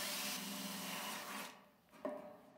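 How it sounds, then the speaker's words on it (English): Drill boring a hole through both overlapping layers of a rainwater downpipe joint, a steady close whirring grind for about a second and a half, then stopping, followed by a brief knock. "then drill a hole through both layers of the joint."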